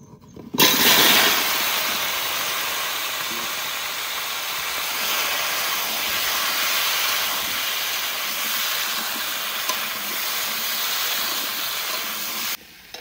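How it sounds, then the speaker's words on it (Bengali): Large chunks of potato dropped into oil left over from frying river fish on a village stove give a loud, steady hiss that bursts in abruptly, holds evenly for about twelve seconds, then cuts off. "মাছ ভাজার তেলে আলু ভেজে নেবো।"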